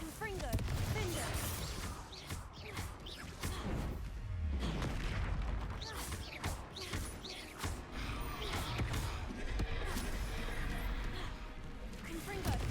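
Explosive spell blasts from Hogwarts Legacy boom repeatedly in a chaotic magical battle, heavy impacts and crashes layered over someone shouting.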